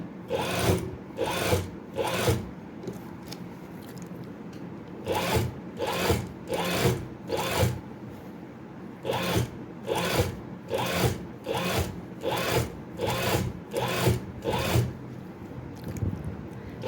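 A sewing machine runs in repeated short bursts while stitching gathers into a cotton baby frock, each burst a few seconds of steady whirring needle motion with brief pauses between, close and fairly loud, with no talking.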